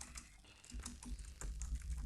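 Quick bursts of keystrokes on a computer keyboard, soft and close, clicking in irregular clusters with no talking.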